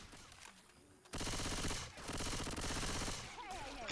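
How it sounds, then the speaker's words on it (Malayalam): Rapid automatic gunfire in Left 4 Dead 2, Dark Carnival campaign: a quieter stretch of game ambience, then loud, dense bursts of shooting that run almost continuously for the rest of the clip, with a short break near the middle. "എല്ലാത്തിനും ഞാൻ വെടിവെക്കും"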